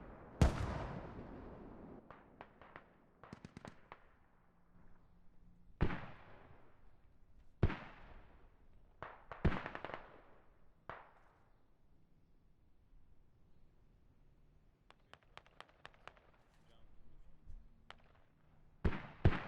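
Mortar fire in the tactical shooter Squad on the Narva map, booming blasts and sharp cracks landing irregularly, some heavy and close, others thinner and distant, spread out with quiet gaps between them.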